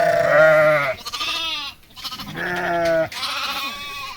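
Sheep on a farm bleat twice, two long wavering calls separated by a short pause, close and loud with no talking.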